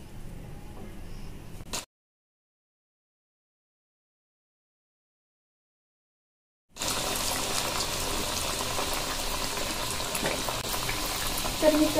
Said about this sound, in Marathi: तर मित्रांनो, अशा प्रकारे आपल्याला ते तळून घ्यायचं आहे.